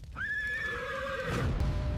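A horse whinnies loudly and close by in a rising, wavering call of about a second, with a steady background rumble running under it and a thicker noisy burst near the end.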